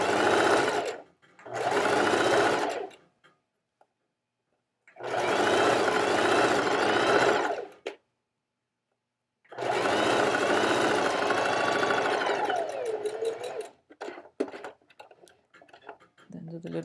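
A sewing machine stitches fabric in three long runs separated by pauses, the steady motor whir loud and close, followed by softer clicks and handling noises at the end.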